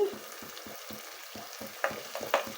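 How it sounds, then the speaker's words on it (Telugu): Cashews fry in a pan of oil for a chicken curry, sizzling softly while a spoon scrapes and stirs in a few uneven strokes. "కాజు బాగా ఫ్రై చేసుకోవాలి."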